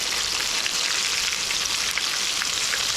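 Thin bluegill fillets coated in mustard fry in a pan with a loud, steady close sizzle, a dense crackling hiss that holds evenly throughout without pause.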